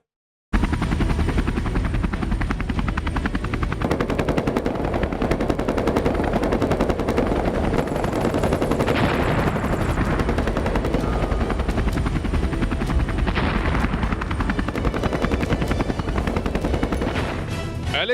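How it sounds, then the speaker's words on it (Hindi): An Apache attack helicopter flies near the Ladakh LOC, its loud, rapid rotor chop and engine roar running continuously with no talk over it. "आज तक आपने अपाचे अटैक हेलीकॉप्टर को लद्दाख एलओसी पर उड़ान भरते हुए देखा होगा"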